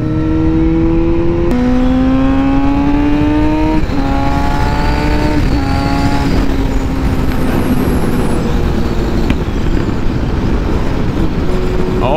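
A BMW S1000RR motorcycle accelerates hard through several gear shifts, its engine note climbing in pitch and dropping at each change, loud and close at Daytona Bike Week with steady road noise throughout.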